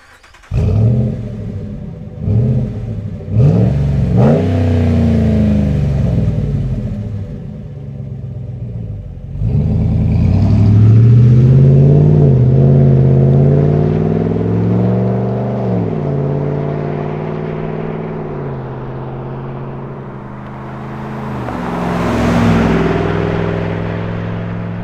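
A Ram truck fitted with an MBRP muffler exhaust revs up loudly and close, with several short throttle blips at first, then a long deep rumbling rev that rises and falls before easing off and swelling again.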